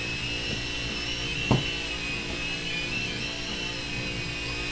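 A Blade MCX2 RC helicopter hovers nearby with a steady, high-pitched whine of its small electric motors and rotors, continuous and even throughout, with one brief bump partway through.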